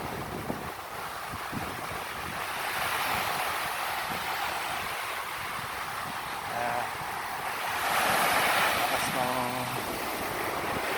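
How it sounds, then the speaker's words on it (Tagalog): Steady roar of ocean surf with surges of waves crashing on the shore and gusty wind, fairly distant and continuous, with faint speech at moments. "Malakas ang alon. Ayan, naririnig nyo, diba?"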